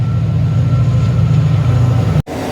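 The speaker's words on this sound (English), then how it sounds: "So as this freight train's passing by" Freight train hauled by locomotive 68033 rumbling past at a new Camp Hill Line station, a loud, steady low roar that cuts off abruptly near the end.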